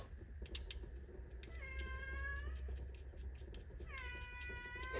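Domestic cat meowing indoors in a garage workshop, two drawn-out meows with a gap between, close and clear over a steady low hum and faint tapping.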